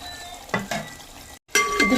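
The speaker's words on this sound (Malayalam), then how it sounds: "ഇത് തീ ഇല്ലേലും ഇങ്ങനെ തിളച്ചുകൊണ്ടിരിക്കും." Coconut milk boiling in a pan while being cooked down into coconut oil, a close, dense bubbling sizzle with a few louder pops and a brief cut near the end.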